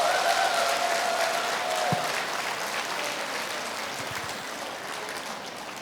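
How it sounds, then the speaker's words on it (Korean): A lecture audience claps together in a sustained, dense wash of applause that stays steady and fades only slightly toward the end. "이 실험에 성공한 사람들만 박수 쳐보세요."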